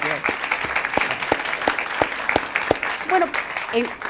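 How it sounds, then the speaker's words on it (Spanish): Studio audience applause on a television interview program, distinct, brisk clapping from a modest crowd with voices talking over it. "Un aplauso para ella."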